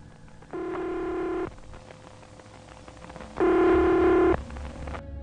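Two long electronic ringback tones on a telephone line, about a second each with a pause between, steady and fairly loud, heard as a call goes through in a Korean horror radio story set at a highway drowsy-driver rest stop.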